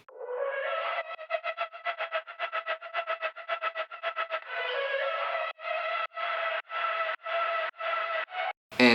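Heavily processed electronic vocal layered with distortion, echo and EQ effects, chopped into a rapid stuttering rhythm and then longer gated bursts, loud and alone, from a dance track drop.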